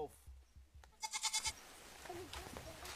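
Local goats in a forest-edge village in Africa give a short, rapid bleat in the middle, moderately near, between quieter stretches of ambient noise.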